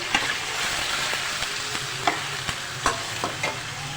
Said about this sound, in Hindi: अब हम इसे भूनेंगे।